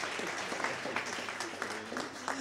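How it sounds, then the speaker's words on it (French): A room full of people clapping steadily at an awards ceremony, dense and even, with faint voices mixed in beneath the applause. "c'est donc Jean-Michel Lehambre, sous vos applaudissements en musique"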